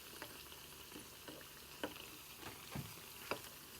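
Bajji fries in hot oil over a high flame, a faint steady sizzle with soft scattered pops and crackles.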